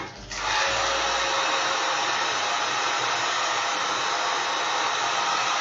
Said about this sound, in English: Be very careful with your heat guns because you'll burn this stuff quickly.